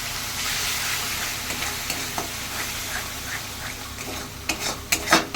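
Prawn malaikari masala with cashew paste sautéing in a pan, a loud continuous sizzle with spatula scrapes and clatters growing busier toward the end.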